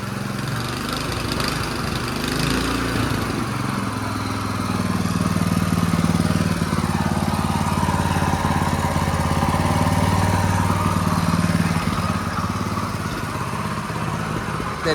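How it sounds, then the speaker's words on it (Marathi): A small tractor engine runs steadily after being repaired, a loud continuous mechanical drone with a clattery edge that holds at an even level for the whole stretch and swells slightly midway. "मशीन फाइनली चालू झाले"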